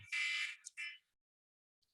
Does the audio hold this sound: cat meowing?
no